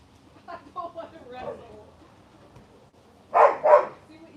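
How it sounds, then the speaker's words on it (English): Several dogs bark in short bursts around a residential neighborhood, a few scattered yips early on followed by two loud, close barks near the end, with a voice talking softly in between. "Now everybody's barking."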